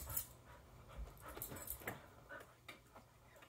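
A dog panting close by, quick soft rhythmic breaths with faint scuffs and small clicks around it, fairly quiet throughout.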